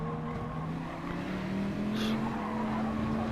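Race cars in Gran Turismo Sport, including a Dodge Viper and a Nissan GT-R, droning with steady engine tones, and a short tire squeal cuts in midway, with no talk.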